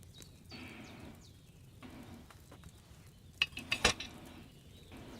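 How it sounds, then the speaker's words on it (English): A potion cauldron simmering over a flame in Kingdom Come Deliverance 2 bubbles and boils with a soft continuous sizzle, broken by a brief cluster of sharp metallic clinks, close and moderately quiet. "Hear that bubbling? It's boiling."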